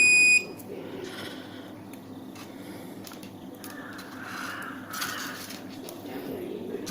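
A multimeter on continuity test gives one short, high beep right at the start. Quiet room hiss with faint background noise follows.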